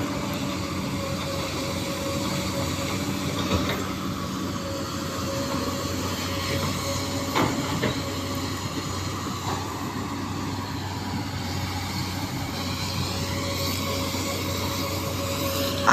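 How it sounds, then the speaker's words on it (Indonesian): The strong, fast current of the Kali Malang river gives a steady, loud rushing roar that stays broad and unbroken throughout, with no talking. "Arus Kali Malang ini deras banget"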